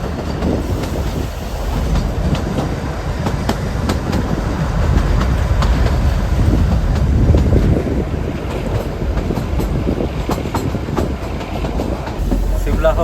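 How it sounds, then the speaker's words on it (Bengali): Shimla to Kalka toy train running along its track, a steady loud rumble of wheels with rhythmic clickety-clack and occasional squeals, heard from on board with faint voices underneath. "টয় ট্রেনের জার্নি কিন্তু দারুণ।"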